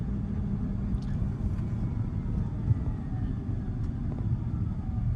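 A Tesla Cybertruck in self-driving mode slows down, its low continuous road rumble and faint whining tones steady and close, with no speech over it.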